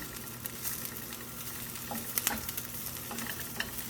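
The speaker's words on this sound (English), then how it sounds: "you can see now how some of the onions are starting to turn brown" Onions fry in a pan over medium-low heat, a steady close sizzle with a few sharp crackles and stirring scrapes throughout, no voices.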